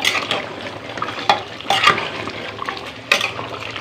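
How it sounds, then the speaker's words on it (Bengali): Chicken with coconut being stir-fried in a pan for a village-style curry, with loud scraping strokes of a spatula against the pan over a steady sizzle, three sharper clanks standing out. "মুরগি কষানো হচ্ছে"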